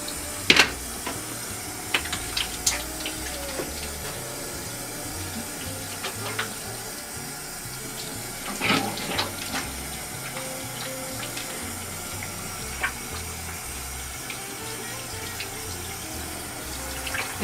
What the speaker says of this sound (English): So I use my natural olive oil soap. I wash my hand thoroughly,